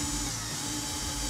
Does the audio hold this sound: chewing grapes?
no